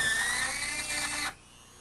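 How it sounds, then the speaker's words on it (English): A small handheld rotary tool grinding slowly through ceramic tile, a high whining buzz with a steady pitched tone that runs for about a second and a quarter, then cuts off abruptly into quiet. "Whenever you're using a rotary tool, you want to make sure that you're cutting through the tile really slowly."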